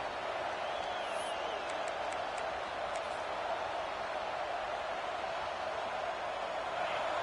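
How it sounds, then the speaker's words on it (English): Broad, steady roar of a football stadium crowd at a college game between Ohio State and Tennessee, a continuous wash of massed voices with faint whistles and cheers, loud and enveloping throughout. "Listen to the crowd energy here in the early going"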